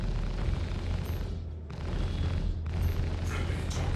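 Weapon fire pounds a ship's shields in the Star Citizen space combat game, a steady roar of deep booms and crackling impacts that runs for several seconds without a break.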